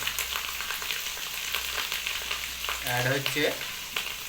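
Chicken coated in chili, turmeric and coriander powders sizzles steadily in a pan while being stirred, a continuous close frying hiss with light scraping and a brief faint voice near the end.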